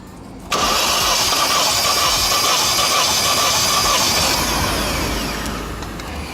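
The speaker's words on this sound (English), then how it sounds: "that's going to give us some more cranks to the engine now" A Vauxhall Corsa VXR engine cranks loudly and steadily on the starter during a compression test, kicking in abruptly after a brief silence and then continuing without a break before easing off slightly near the end.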